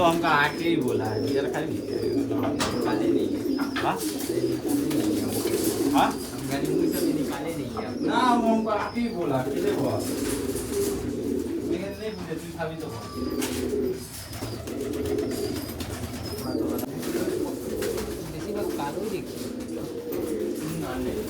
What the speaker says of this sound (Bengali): বারবার করে বলছি যে এই বড় ধাড়ি পায়রাগুলো কেউ চাইবে না